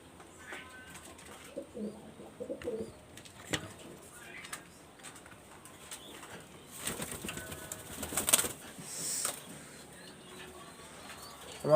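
Pigeons coo softly and repeatedly in a loft where the birds nest with their young, with occasional chirps and brief wing flutters. A louder, rougher burst comes near the end.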